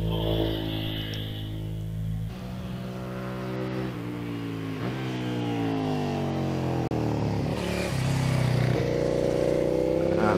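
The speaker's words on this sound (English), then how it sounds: "Mike on the 736 bike, the 750 Suzuki" A 750 Suzuki racing motorcycle on a hill climb at Prescott, engine rising through the gears with repeated upshifts, loud and close, then pulling away, with no talking.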